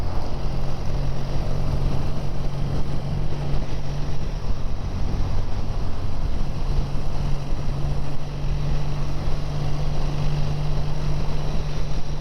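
A BSA A10 650 parallel-twin motorcycle cruising in top gear, its steady low engine drone running continuously under heavy wind rush, fairly loud and unbroken throughout.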